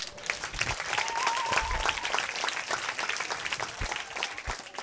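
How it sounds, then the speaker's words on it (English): An audience claps for preschool graduates at a school ceremony in Garissa, a fairly faint but steady patter of many hands that swells slightly in the middle and continues unevenly to the end. "Clap hand for them."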